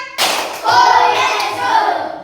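A fourth-grade elementary school class claps together in a short counted pattern: a few quick, sharp group claps close by, with a voice briefly heard.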